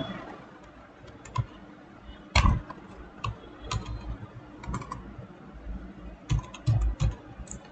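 Keys clatter on a computer keyboard as a folder name is typed, sparse clusters of light clicks and a few louder taps spread across a quiet room, close and alone.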